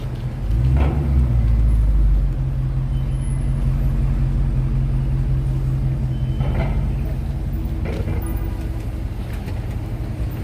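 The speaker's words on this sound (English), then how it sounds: "Rush hour traffic." Steady roar of rush hour traffic on a New York City street, with engines idling and passing, a brief louder burst at the start and scattered horn-like tones and hiss throughout.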